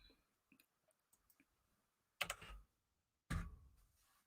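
Someone types on a computer keyboard with faint, scattered key clicks. Two louder bursts of clatter stand out in an otherwise quiet room.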